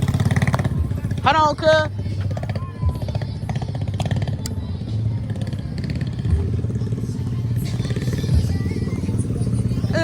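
A dirt bike engine runs outdoors with a steady, close mechanical drone that carries through the whole stretch, while people talk over it.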